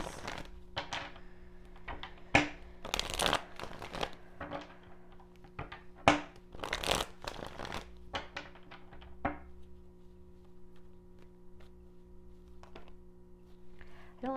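Tarot cards are shuffled and riffled by hand in bursts of crisp, papery slapping and fluttering for several seconds, then the handling goes quieter, leaving a faint room hum.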